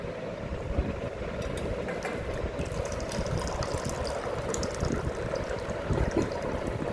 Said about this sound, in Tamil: தண்ணி ஊற்றிச்சு